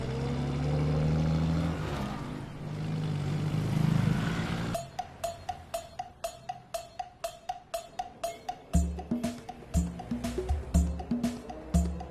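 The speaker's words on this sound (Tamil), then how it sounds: "ஒரு வண்டி வருது." A car approaches on the road with a rising engine drone for about five seconds, then the sound gives way to a steady run of sharp rhythmic ticks and knocks.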